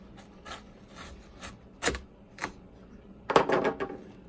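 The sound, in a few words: cutting seedless watermelon across the middle with fillet boning knife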